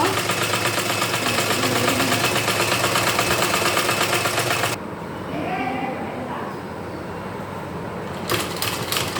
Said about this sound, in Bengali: টেনে টেনে সেলাইটা দিয়ে নিতে হবে